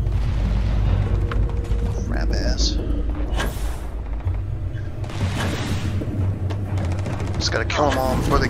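Heavy gunfire from the Starfield video game, with dense, booming shots and rumbling blasts running almost nonstop, while a voice talks over the firefight.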